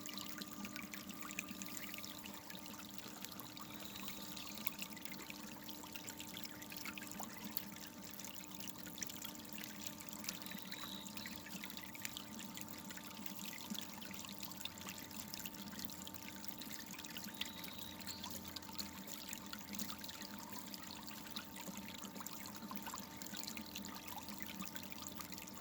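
Water trickles and pours steadily through a gold sluice box set up on a beach, a continuous close splashing stream that runs evenly without pause throughout.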